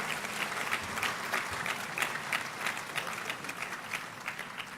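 Sustained audience applause after a lecture at a university congregation ceremony, a dense, steady wash of many hands clapping at even loudness throughout, with no talk over it.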